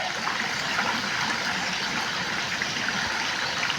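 Water flows steadily and continuously, like a stream or small waterfall, a constant broadband rush that holds level throughout with no talk over it.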